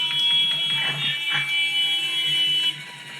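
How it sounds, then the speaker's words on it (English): A helicopter's high rotor speed warning horn beeps in a steady high-pitched pattern over a low mechanical drone, then cuts out near the end. "That beep, beep, beep that you hear there, that's the high rotor horn"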